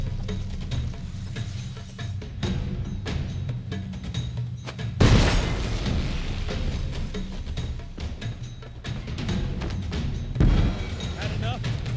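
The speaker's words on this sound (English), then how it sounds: "Throw a bomb." Bomb explosions in The Witcher 3 video game, two dull booms a few seconds apart under continuous game sound and character dialogue.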